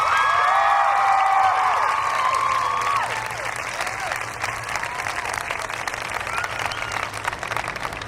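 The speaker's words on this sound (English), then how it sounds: "Class of 2004, please give your parents a round of applause" A high school commencement crowd for the Class of 2004 breaks into loud sustained applause with cheering, the clapping gradually easing to a steady, slightly softer patter toward the end.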